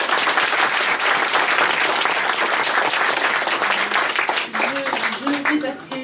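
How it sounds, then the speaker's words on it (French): Audience at a political meeting bursts into sustained, loud applause, dense clapping filling the room throughout, with a few voices and cheers rising near the end. "Je vous demande de l'applaudir, de l'accueillir sous un tonnerre d'applaudissements"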